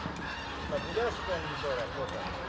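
Geese honk repeatedly in short overlapping calls at mid distance over a steady outdoor background, with faint talk underneath.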